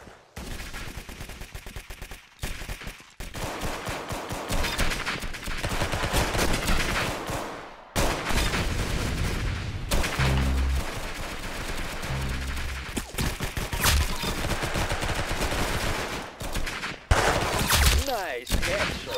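Gunfire in the Roblox shooter game Arsenal: dense, rapid shots and bursts keep coming almost without a break, fairly quiet overall, and a voice talks at times.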